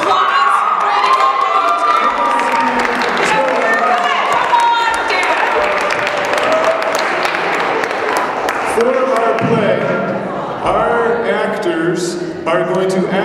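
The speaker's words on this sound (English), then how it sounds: "Give them a round of applause." A loud school talent show audience cheers and shouts excitedly, with children's voices and scattered clapping rising together for several seconds.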